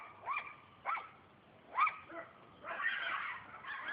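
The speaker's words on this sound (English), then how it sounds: "That's Alan Janice's dog" A dog near a lake gives a few short, faint yips and whimpering barks, spaced apart, then a longer whining stretch, distant and soft.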